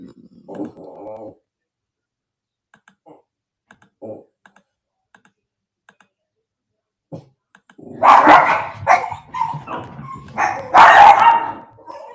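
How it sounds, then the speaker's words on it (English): A pet dog barks in a home, a few sharp, loud barks in quick bursts near the end, following quiet stretches with faint clicks and light keyboard tapping. "You hear my dog."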